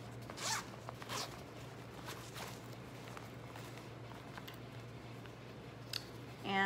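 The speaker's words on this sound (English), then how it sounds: "This one has a tiny zipper pull." Short, quiet zipping from the tiny zipper pull on a Tokidoki JuJuBe bag, heard close up as a few quick separate zips with soft handling noise between them.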